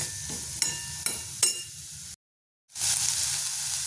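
Finely chopped green chilli fries in hot oil with a steady close sizzle and a few stirring clicks. The sound drops out briefly, then the frying hiss returns.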